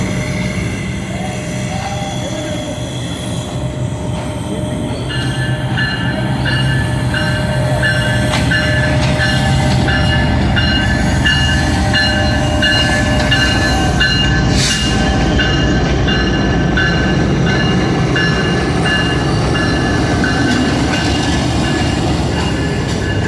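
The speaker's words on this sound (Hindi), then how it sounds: "अब ग्रीन एक्सप्रेस लाहौर जंक्शन पर अराइवल हो रहा है।" The Green Express luxury train pulls into Lahore Junction in Pakistan with a loud continuous rumble of wheels and carriages, faint squealing tones and a short sharp burst midway, close and steady throughout.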